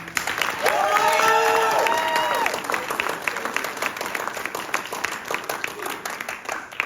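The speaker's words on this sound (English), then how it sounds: "Please give a round of applause to Fabio." An audience at a Cinderella stage performance bursts into applause with cheering and a whistle, loud at first and then thinning to scattered clapping that fades over several seconds.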